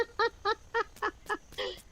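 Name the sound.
rooster crowing in video game Dinkum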